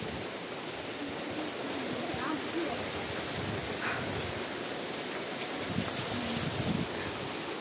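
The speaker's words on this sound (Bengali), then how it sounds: "এই বৃষ্টিটা কিরকম একটা বড় বড় ফোঁটার বৃষ্টি করছে। এই অনেক জোরে পড়ছে।" Heavy rain with large drops pours down outdoors, a dense and constant close patter and splash on surfaces, with voices faint beneath it.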